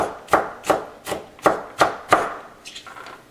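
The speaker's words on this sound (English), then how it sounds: "give it a few more chops on the board." A knife chops celery on a cutting board in about eight crisp, evenly spaced close strokes, the last few lighter and quicker, with no voices.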